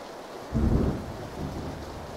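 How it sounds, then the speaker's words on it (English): Heavy rain pours steadily in a Battlegrounds match, with a low rumble of thunder swelling and rolling through the downpour, no voices over it. "It's raining hard out here, guys."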